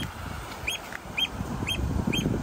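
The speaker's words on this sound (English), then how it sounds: "It's a bird." A bird calls from nearby, giving four short, evenly spaced chirps over a low background murmur.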